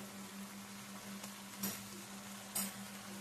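A spoon stirring spicy yogurt potatoes (jhal doi alu) in a pan, faint scraping over a steady low hum and soft sizzle, with two brief louder scrapes near the end.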